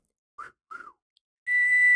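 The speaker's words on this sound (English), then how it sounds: "I don't have a good whistle either" Two short, breathy whistle attempts, then a clear, steady whistled note held for about half a second.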